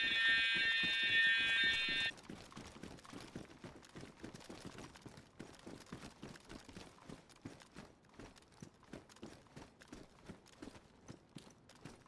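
An electronic alarm blares in the DayZ video game for about two seconds, a steady tonal wail that then cuts off, leaving a quick, regular patter of running footsteps that continues on its own.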